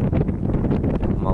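Strong wind buffets the microphone outdoors near a large wildfire in Cyprus, a steady, close roar of rumbling gusts with no break.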